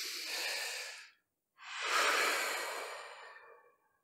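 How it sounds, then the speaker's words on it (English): A deep breath taken during a guided meditation: a long inhale, a brief pause, then a longer, fuller exhale that fades out, close and alone with no talk. "Take a deep breath."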